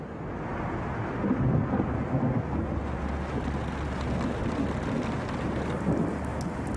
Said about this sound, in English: A thunderstorm has caused the cranes to stop working.